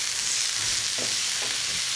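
Garlic and capsicum sizzle in a hot pan over high heat for chicken paella, a brief close crackling fry with a couple of soft stirring scrapes.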